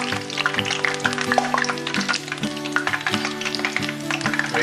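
Apple fritter batter bubbling in hot frying oil, a steady close sizzle with crackling spatters and a few soft taps against the pot, almost no talking.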